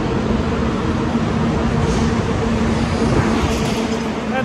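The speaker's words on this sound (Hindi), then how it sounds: "टनल के अंदर भी लोग ओवरटेक कर रहे हैं" Steady, loud road rumble of vehicles passing and overtaking inside a 13-kilometre road tunnel in the Himachal hills, heard from a bicycle, with a continuous echoing drone and no talk.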